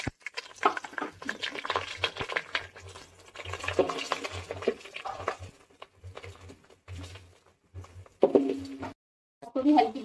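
Onions frying in hot oil with spices for a chicken, pea and potato tahari, heard as soft intermittent sizzling with scraping and stirring clinks of a spoon against the pan, pausing between bursts.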